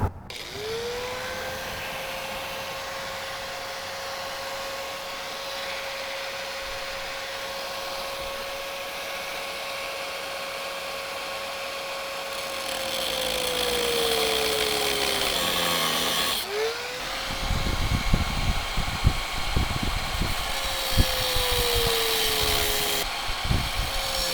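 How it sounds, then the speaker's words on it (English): A cutoff wheel plunges into metal, starting with a steady high whine as it spins, then dropping in pitch under load into a rough, gritty grinding roar that rises and falls through the cut. "I'm going to start by just plunging my cutoff wheel in there"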